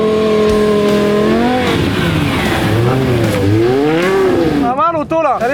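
A Ferrari V10 engine revs hard while the car is driven across a field, its pitch sweeping up and down in loud rising and falling wails, ending with quick sharp blips; a voice talks over part of it.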